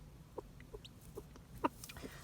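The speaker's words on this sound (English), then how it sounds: "We have a chick." A newly hatched chick gives a handful of faint, high peeps spaced irregularly over a couple of seconds, soft and close in a quiet room.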